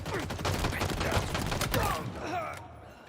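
Gunfire from the video game Halo Infinite, with dense rapid bursts of shots and impacts under a busy mix of in-game effects that thin out toward the end.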